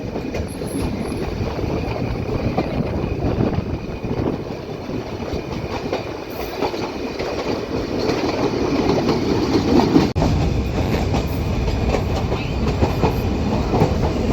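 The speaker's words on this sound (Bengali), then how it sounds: "এত উপর দিয়ে ট্রেন যাচ্ছে" A train climbing through the Nilgiri hills between Mysore, Ooty and Coonoor, high above a farmed valley, rumbles steadily on its rails with a constant clickety-clack of wheels, loud and close throughout.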